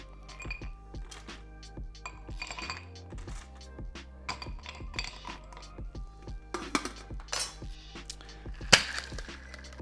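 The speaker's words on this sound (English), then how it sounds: "I do have some smaller clear ice cubes that I'm gonna use for this one." Small clear ice cubes clink and rattle into a rocks glass for a honey whiskey sour, a quiet run of sharp glassy taps and knocks with a few brighter clinks near the end.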